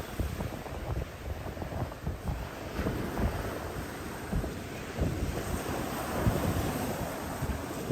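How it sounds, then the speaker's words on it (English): Ocean surf breaking on Hollywood Beach, Florida, in rain and wind, a steady broad wash of waves with wind buffeting the microphone throughout, no voices. "listen to the sound of the waves crashing"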